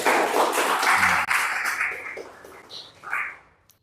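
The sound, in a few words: class clapping for a student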